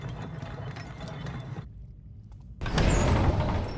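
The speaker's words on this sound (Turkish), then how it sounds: "Bu kapı da çok enteresan açılıyor ha." A mechanical door grinds and ratchets open in the stealth game Thief, a clicking geared mechanism that stops briefly and then resumes louder with a broad rush, with no talk over it.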